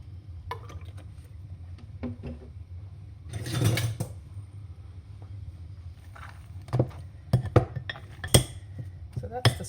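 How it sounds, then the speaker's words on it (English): Hot boiled potatoes being mashed with a knob of butter and a splash of olive oil in a pot, giving soft clinks and scraping taps of the masher, with a denser burst of squashing mid-clip and quiet speech in the background. "I'm going to add a knob of butter and mash them now while they're hot."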